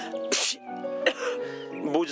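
A woman sneezes once, a sharp burst amid a dialogue scene, with conversation continuing around it.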